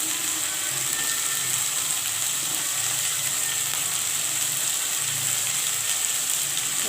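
Spring onions, chilli and garlic fry in a pan, making a steady, even hiss of sizzling oil at moderate volume with faint low clatter underneath and no talking.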